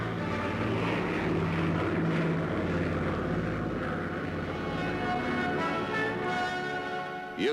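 Propeller aircraft flying steadily at close range, a continuous droning engine roar with harmonic hum that holds loud throughout and eases slightly near the end.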